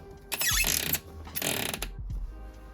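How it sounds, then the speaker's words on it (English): Plastic bean hopper twisted and locked onto the built-in grinder of a Gevi ECMI0-SS0A1 espresso machine, giving two close, brief bursts of ratcheting clicks separated by a short pause. "Just line it up with the opening and twist to lock it in place."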